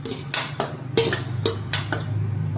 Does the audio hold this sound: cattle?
no